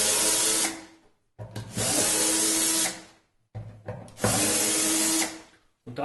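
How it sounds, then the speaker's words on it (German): Screws on the outer edge of a Sela snare cajon being loosened with a power screwdriver, heard as two long whirring bursts, each followed by a shorter one, close and fairly loud with brief silent gaps between. "Dazu muss man einfach nur die äußeren Schrauben hier etwas lösen."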